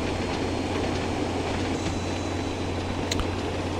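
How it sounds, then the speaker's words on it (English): A train in Train Sim World on the Leeds to Manchester service: a steady, continuous rumble of running wheels and engine drone, with a brief high squeal near the end, no talking. "I do like the sound of this train."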